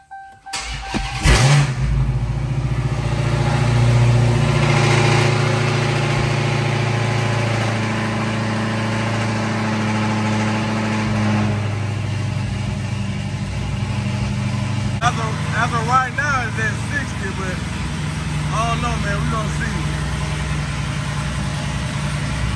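A Dodge Charger Hellcat engine cranks and fires with a sharp burst, then settles into a deep, steady idle with slight changes in pitch, while someone speaks over it later on.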